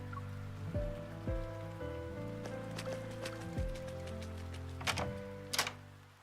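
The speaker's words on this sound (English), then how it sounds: "the pouring rain outside seemingly isolates us from the rest of the world" Steady rain pours through a night scene in the Love and Deepspace game, a soft continuous wash beneath sustained music tones with a few brighter splashes near the end.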